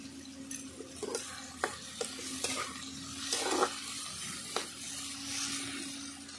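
Eggplant sizzles steadily while frying in fish oil in a pan, with a spatula scraping and stirring in several sharp clicks over a constant frying hiss, close and fairly quiet.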